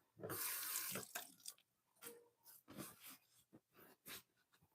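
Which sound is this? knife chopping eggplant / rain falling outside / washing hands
washing hands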